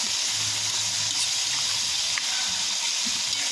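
Food fries in a pan of oil while saltfish is cooked to go with roast breadfruit, a loud, steady sizzle and bubbling hiss running the whole time with no break and no talking over it.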